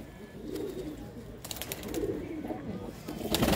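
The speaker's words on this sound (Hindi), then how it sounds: "उड़ान वास्ते कबूतर बहुत चंगा है" Pigeons kept for flying coo in low, soft repeated rumbles close by, mixed with wing flutters and brief rustling noises.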